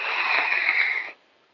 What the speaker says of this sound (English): that's sweet breathing.